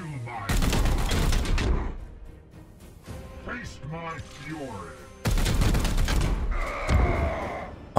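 Bursts of rapid gunfire from the Chaos Gate Demonhunters video game, two loud volleys separated by a quieter stretch of mechanical whirring and warbling effects.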